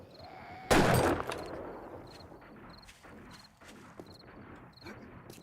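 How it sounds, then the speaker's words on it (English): A loud burst of video game gunfire near the start, followed by quieter scattered shots and faint clatter in the distance. "I hear multiple gunfire back there"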